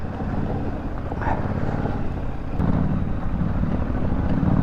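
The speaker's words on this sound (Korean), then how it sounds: "와 자드 머플러 소리 봐라" A motorcycle fitted with a Zard muffler rides a rough off-road forest trail, its exhaust a loud, continuous low rumble that swells slightly as it goes, with no clear talk over it.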